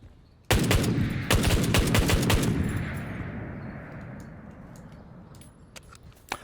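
Burst of gunfire from two shooters in a night-time tactical shooter game, a loud rapid volley of shots that rings out and decays into a lingering echo, with a few faint clicks afterward.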